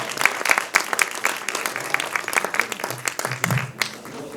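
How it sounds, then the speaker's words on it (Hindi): An audience applauds for a birthday at a panel event, with dense steady clapping at moderate volume and a few individual claps standing out, with some faint voices underneath. "प्लीज़ तालियां बजा सकते हैं"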